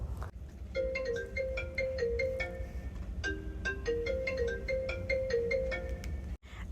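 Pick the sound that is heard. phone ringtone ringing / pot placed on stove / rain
phone ringtone ringing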